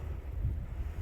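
Cold wind blowing across a mountain trail near Max Patch, a steady low rumbling buffet of gusts against the microphone, no voices.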